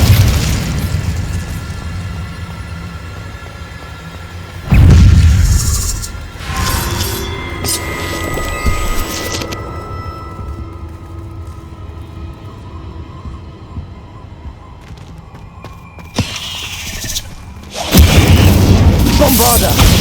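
Incendio fire spell cast in the Hogwarts Legacy video game, heard as two loud booming bursts that stand out over a steady bed of game ambience and score.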